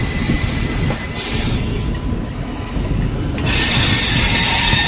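Running sounds of the 15550 Jaynagar intercity express between Patna and Muzaffarpur: loud continuous rumble of wheels on rails with hissing and screeching, growing brighter toward the end.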